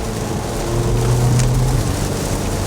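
A 2017 Porsche Macan's four-cylinder engine drones steadily from inside the cabin while driving in rain, a loud continuous hum with road and rain noise washing over it, no voices.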